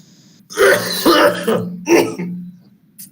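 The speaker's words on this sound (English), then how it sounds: "Please excuse my coughing." A few harsh throat-clearing coughs in quick succession, close and loud, followed by a short pause and a faint final sound.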